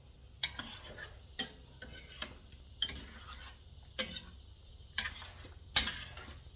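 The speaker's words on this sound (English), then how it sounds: "stirred it up off the bottom" A spoon stirs Hungarian lecho in a pot, scraping the bottom in about six separate, evenly spaced strokes with metallic clinks, close and moderately loud, with no talking.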